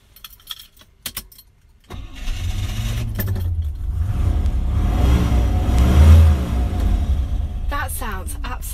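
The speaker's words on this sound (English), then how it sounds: "So let's start the car up and have a listen." A 1960s Rover 3500 (P6) automatic cranks and fires up after a couple of short clicks, then settles into a loud, steady, rumbling idle with a slight swell in revs, close to the microphone.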